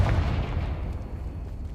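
A Confringo blasting spell in Hogwarts Legacy bursts into a deep, rumbling explosion that hits hard at the start and then decays into a low, lingering roar.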